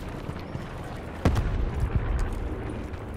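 A grenade in Call of Duty: Black Ops Blackout goes off with a loud, sudden blast, followed by a rumbling roar and a second thud that fade over a couple of seconds, with no voices.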